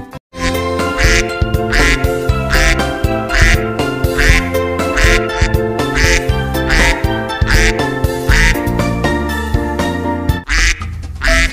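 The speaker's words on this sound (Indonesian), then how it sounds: "Wadidaw, lihat ini, ada induk bebek warna putih teman-teman." A white mother duck quacks in a rapid repeated series of loud, close calls, steady rhythmic quacking over a music-like background, with no talk.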